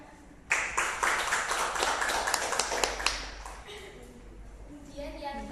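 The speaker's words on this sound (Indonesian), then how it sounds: "Beri tepuk tangan." Schoolchildren clapping in a classroom, a close burst of rapid hand claps lasting about three seconds before it stops and a voice speaks.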